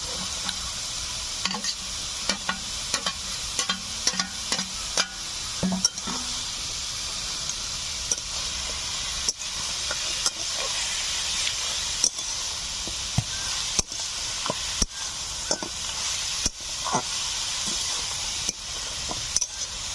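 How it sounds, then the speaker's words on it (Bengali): A spatula scrapes and stirs fried katla fish head with freshly picked greens in a sizzling pan. Frying hiss runs steadily throughout, broken by regular sharp clinks and scrapes, close up and with no talking. "মাছের মাথা দেওয়ার পরে আমি 3-4 মিনিট নাড়াচাড়া করে নিয়েছি"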